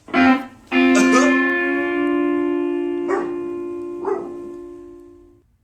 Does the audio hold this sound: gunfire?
no